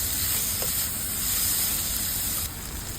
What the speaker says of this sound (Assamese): বিলাহীখিনি দি আকৌ অলপ ভাজিম